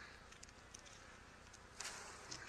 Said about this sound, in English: shake the bees off of them